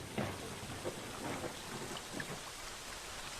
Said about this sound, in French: Entends-tu comme le son de la pluie devient tout doux?